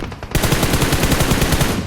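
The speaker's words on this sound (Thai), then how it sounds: "เสียงปืน อยู่ข้างหน้าเรานะ่ะ" Rapid automatic gunfire in PUBG Mobile crackles in a dense, steady burst of evenly spaced shots, loud and close, with no talk.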